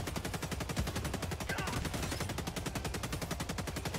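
Rapid automatic gunfire from shooting in the game Helldivers 2 sounds as a dense, steady stream of evenly spaced shots. It runs unbroken for the whole stretch, loud and close, with no talk over it.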